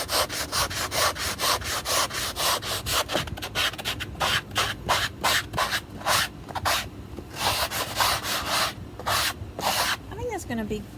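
A stenciled cabinet door is sanded by hand, with repeated brisk back-and-forth rubbing strokes of abrasive on wood in an even rhythm, close and loud, ending with a brief squeak.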